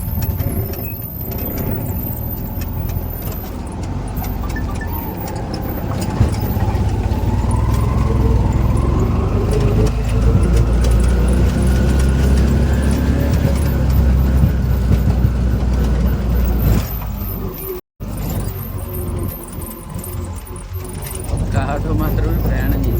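A vehicle, likely an auto-rickshaw, travels a very narrow hill road near Ella, Sri Lanka, its engine running steadily and close for most of the stretch, with mechanical rattles, a brief dropout, and a voice talking over it.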